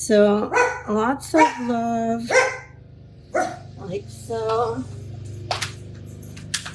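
A dog barks in the background, short repeated barks underneath someone talking close by.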